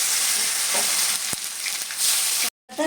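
Tomato drops into hot oil seasoned with chilli, bay leaf and cumin, giving a loud, continuous close frying sizzle with a faint knock, then a sudden brief silence before the sizzle returns.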